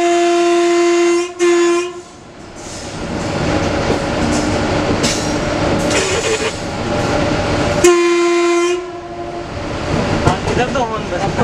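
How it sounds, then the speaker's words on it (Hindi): Powerful locomotive's horn heard from the cab, a loud sustained blast at the start and another near the end, over the constant roar and clatter of the running train. "मेरे नाम पे हॉर्न बजाते हो"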